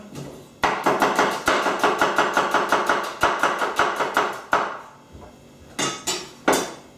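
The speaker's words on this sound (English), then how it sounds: "Now we're going to add a little bit of just some red onions, some fresh red onions. So just slice this up quickly." A knife chops fresh red onions on a board in a quick, regular run of sharp knocks, then pauses before a few final louder strokes.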